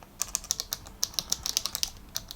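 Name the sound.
clicky laptop keyboard typing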